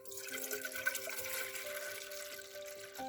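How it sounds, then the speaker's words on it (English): Water poured into a cooking pot at a backpacking campsite, a steady broadband splashing rush running about three seconds, close and fairly even in level, with a faint tonal hum beneath and no talking. "So water goes in the pot."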